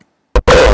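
A raw hardstyle kick run through a cubic distortion filter: a short punchy hit, a brief gap, then a loud, gritty, distorted tail that booms on to the end.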